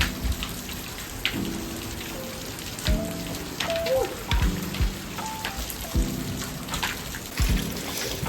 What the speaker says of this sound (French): j'avais pas anticipé qu'il pleuve autant